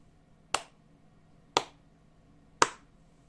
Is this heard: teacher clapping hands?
yes